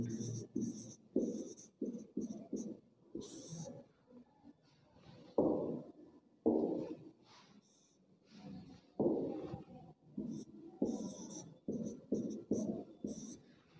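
Someone writes on a board during a class 8 geometry lesson on parallelograms. Short, close scratching strokes come in quick bursts separated by brief pauses.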